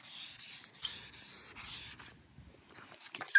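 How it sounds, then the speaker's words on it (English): Soft, rhythmic scraping of 600-grit wet sandpaper rubbed back and forth on a spray-painted car hood, fairly quiet, in repeated short strokes. "Now we're gonna wet sand it with a 600 grit sandpaper right here."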